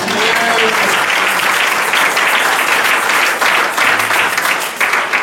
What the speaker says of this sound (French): Est-ce qu'on peut acclamer l'Éternel pour ça?